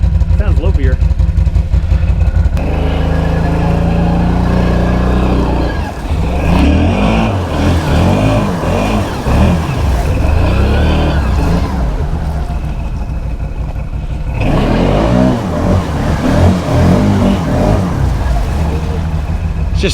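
A 2017 Can-Am Outlander 650 XMR quad engine with a lopey idle revs hard as its tires spin for grip on rocks, a loud, continuous, close-up roar that rises and falls, with people talking over it.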